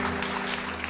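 An audience applauds, a dense steady wash of clapping at moderate distance that fills the short moment without pause.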